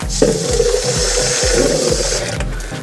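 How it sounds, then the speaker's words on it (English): Water runs from a tap into a bucket for cleaning in a laundry room, a loud steady rushing stream with faint rhythmic knocking underneath, then it stops near the end. "So just get a bucket of water."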